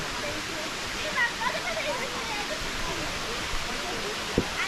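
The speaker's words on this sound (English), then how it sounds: "And over here is the edge. The Kuan Falls." Kuang Si waterfall in Laos pours in a steady, loud, broadband rush heard from close by at its edge, with a voice speaking over the constant roar of falling water.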